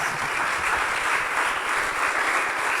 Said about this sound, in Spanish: Dele una buena ofrenda de palmas.